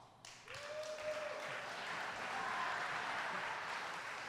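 An audience at a Governor Andrew Cuomo announcement event in Erie County breaks into applause, building quickly into a steady, fairly dense clapping that carries on evenly to the end, with a brief tonal sound early on.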